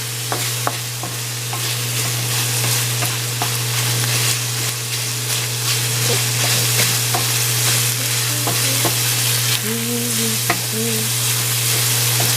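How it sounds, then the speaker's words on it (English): Chicken fried rice with basmati rice stir-fried in a wok, a loud continuous sizzle with repeated scraping strokes of a utensil and a steady low hum beneath, no talking. "And this is where you can stir and stir and stir."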